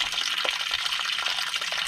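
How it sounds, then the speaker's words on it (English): Gray water gushes steadily from the release valve of a converted Ford Transit van, a close, continuous splashing pour with no voices. "I can already hear the water pouring out"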